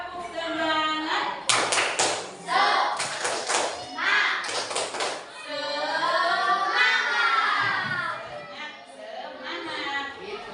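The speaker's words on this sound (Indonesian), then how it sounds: "Satu kali lagi. Tepuk semangat." A classroom of children performs the rhythmic Indonesian spirit clap, tepuk semangat, in several bursts of brisk clapping in a set pattern, with a teacher's voice and the children's chanting between and around the claps.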